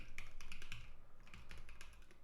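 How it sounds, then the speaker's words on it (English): Rapid, steady clicking of keys on a computer keyboard during a Rust and Bevy game-coding session, close and fairly loud, with uneven bursts of keystrokes and no talking. "that was more typing than I anticipated"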